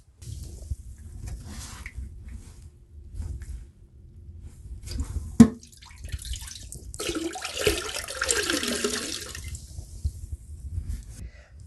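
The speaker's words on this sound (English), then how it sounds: "And it won't completely drain on its own, so we'll have to give it a little help with the sponge." Sponge soaking up and squeezing out the last water from a toilet tank, soft sloshing and dripping with a sharp knock midway and a louder stretch of wringing water toward the end.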